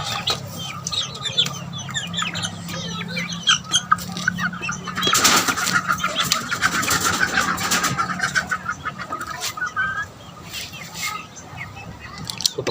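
Roosters and chickens at a cockfight cluck and flap their wings in bursts, with feathery wing beats and scattered crowing over a busy outdoor background.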